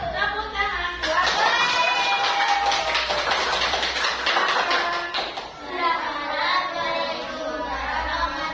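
Schoolchildren in a classroom clapping together in quick taps, with children's voices and chatter mixed in and rising over the clapping at times.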